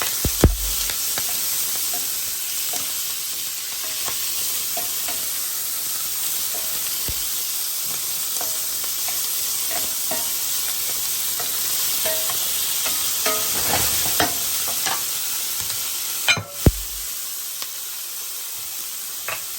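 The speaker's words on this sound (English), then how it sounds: "Now we're gonna go ahead and add all our peppers in." Peppers sizzling loudly in a hot pan alongside browned pork chops, a dense continuous frying hiss with occasional scrapes and stirring clatters, close up and without talk.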